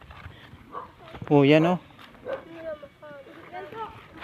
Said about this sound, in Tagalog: Baka mayroon dyang aso.